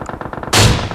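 A loud burst of rapid gunfire erupts midway through, close and dense, from a shooter video game during a team firefight, following a quieter stretch of rhythmic in-game sounds.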